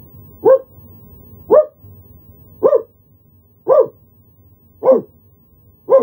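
Dogs bark in a slow, regular series of six sharp single barks about a second apart, each loud and close, while trying to howl. Faint background hum sits between them and nobody speaks.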